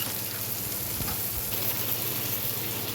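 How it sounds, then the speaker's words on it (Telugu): Moringa drumstick pieces sizzle and crackle steadily in a hot pan as they are stirred for a curry, giving a dense, even frying hiss with soft scraping throughout. "మునక్కాయ వేసి కొంచెం కలుపుకోవాలి"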